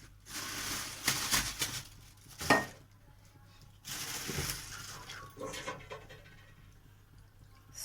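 A dry karahi is set on the stove and handled, making several metallic clanks and scrapes of cookware between quiet gaps.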